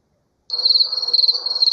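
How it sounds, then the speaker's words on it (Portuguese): Crickets chirp in nature, a steady, close, high-pitched trill that starts abruptly and continues alone without pause. "É um grilo. São os grilos que ficam na natureza, não é?"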